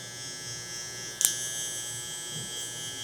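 An electric hair trimmer hums steadily and close during a soft taper cut on curly hair, with a brief sharper buzz as the blades touch the hair, and no one speaking.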